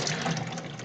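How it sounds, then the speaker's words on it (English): Hot tap water runs steadily into a garage sink, a continuous close splashing hiss with no talk over it. "I'm going to try and do hot water in my garage sink here"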